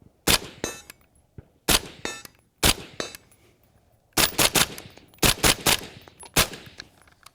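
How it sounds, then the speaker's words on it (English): Suppressed PWS UXR rifle fired at a steel target, about eight sharp muffled cracks in short bursts, each followed by a bright metallic ring of the struck steel, with quiet gaps between groups. "Hit that steel target."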